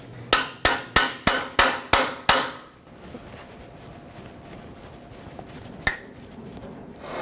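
Seven quick, evenly spaced metallic hammer strikes ring out close by as a 14 mm socket is hammered onto an exhaust bolt on a Nissan Pathfinder, followed after a pause by one more sharp blow.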